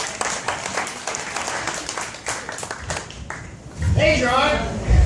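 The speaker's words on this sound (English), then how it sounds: "Let's have a round of applause for Ralph and the wonderful job." Live audience applause at an improv comedy show in a club, dense clapping throughout, with a host's voice and cheering rising over it near the end.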